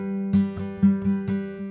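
Acoustic guitar playing a complete fingerpicking pattern, both halves joined, with picked notes over a steady drone: bright plucked attacks land in an even rhythm, close and clear, with no talking.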